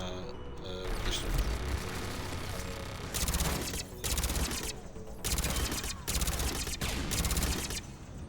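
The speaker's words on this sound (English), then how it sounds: "Fine, I'll use the machine pistol then." Machine pistol bursts in Mass Effect Legendary Edition, loud rapid volleys in several separate bursts with short pauses between them, close and dominant.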